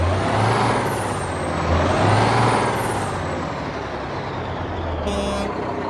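A Mack R Series truck idles in American Truck Simulator, heard from outside with the parking brake set and in neutral: a steady, loud low diesel rumble with slow swells, a faint high whine, and a brief beeping near the end.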